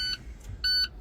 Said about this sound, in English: Lights, alarms and lights came on.